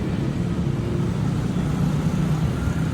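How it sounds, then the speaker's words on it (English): Sports cars, including an Aston Martin and a Porsche, pass along an affluent Bangkok street near the Nana Plaza area, giving a loud, steady mid-range engine rumble with road noise and no voices. "Aston Martin, another Porsche."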